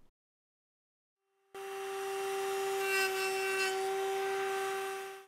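A router cuts notches into the bottoms of wooden toy log pieces, starting abruptly after about a second and a half of silence and then running as a loud, steady whine with a constant pitch. It keeps going to the end, and no one talks.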